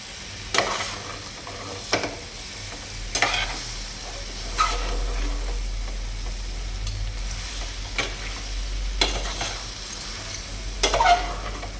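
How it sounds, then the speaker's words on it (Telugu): A tempering (popu) with chillies sizzles steadily in a pan for a raw banana dish, while a spoon strikes and scrapes at regular intervals of about a second, with no speech. "పోపు బాగా కలిపిలాగా కలిపేసుకోండి"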